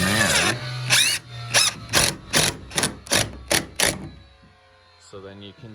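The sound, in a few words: driving screws into a shed door hinge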